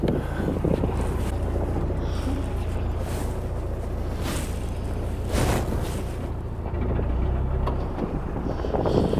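Gusty wind buffets the microphone beside a narrowboat at a canal lock on the Buckby flight, a continuous low roar with louder surges, no talk over it.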